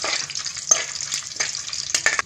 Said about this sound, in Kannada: ಈಗ ಗೋಡಂಬಿ ಹಾಕ್ತಾಯಿದ್ದೀನಿ.